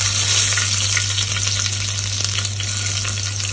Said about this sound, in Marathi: तेल आता बऱ्यापैकी तापलेलं आहे, तर लसूण टाकून घेते